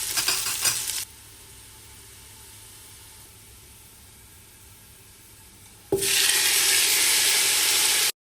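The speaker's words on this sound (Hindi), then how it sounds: "और उसके बाद एक मीडियम साइज का स्लाइस किया हुआ मैंने प्याज डाल दिया था" Sliced medium onion dropped into hot oil with whole spices, a loud bright sizzle at the start that drops to a quieter steady hiss, then surges back to a strong, close frying roar near the end.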